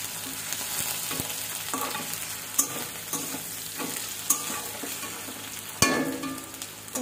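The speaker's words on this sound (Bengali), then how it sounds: "লবণ দিয়ে ভাজতেছি যাতে আলুটা তাড়াতাড়ি একটু ভাজা হয়ে যায় আর পেঁয়াজ রসুনগুলো ভালো করে ভাজা হয়ে যায়" Potatoes, onions and garlic frying with salt in a pan, a steady sizzle broken by occasional sharp clanks and scrapes of stirring, close and with no talking.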